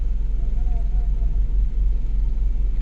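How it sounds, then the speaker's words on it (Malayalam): A car on the NH66 highway passes by as a steady low engine rumble and road drone, fairly loud and continuous throughout with no talking. "അപ്പം നമ്മുടെ സെൻറ്റിൻ്റെ വണ്ടി ഇതുവഴി കടന്നു പോകുന്നുണ്ടേ."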